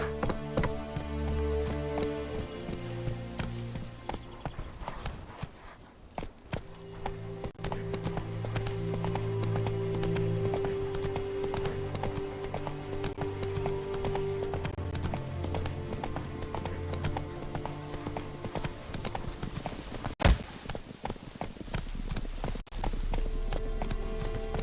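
Horse Roach's hooves clip-clop at a gallop in The Witcher 3, a steady rhythmic beat running under a continuous music score for most of the stretch.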